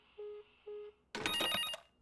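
A telephone rings with two short electronic tones, followed by a louder, denser burst of ringing that fills the last second, close and clear with no talk.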